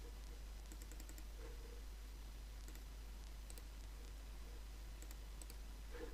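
Mouse clicks for a right-click and copy on a computer, a few faint scattered ticks over a steady low hum, with no talking.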